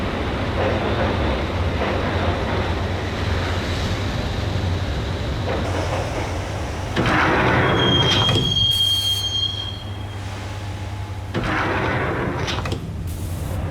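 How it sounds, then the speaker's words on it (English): A subway train in the Max Payne game rides toward Roscoe Street Station, a loud continuous rumble of wheels on rails with a long high-pitched wheel squeal in the middle and the roar swelling and easing in waves. "the train doors had already shut behind me, and I was in for the ride"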